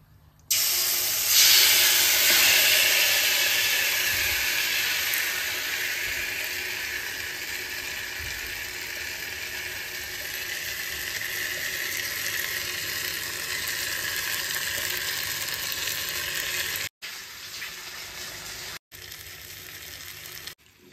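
Marinated chicken dropped into a hot pan for a spicy restaurant-style curry, erupting into a loud steamy hiss that settles into a steady, close sizzle with two brief cuts near the end.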